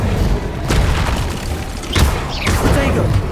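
Incendio fire spell cast in Hogwarts Legacy: loud whooshing bursts and deep booms, with a few blasts spread over a few seconds against a dense, roaring game background.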